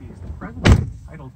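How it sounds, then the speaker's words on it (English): The driver's door of a 2015 VW Golf Mk7 shuts with a single solid thud, close by, set among a faint low murmur. "Door's closed."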